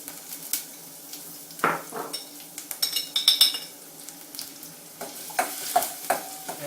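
Onion and garlic sizzle in a hot pan while a utensil stirs and scrapes, with scattered clinks against the pan over a low, steady frying hiss, heard close.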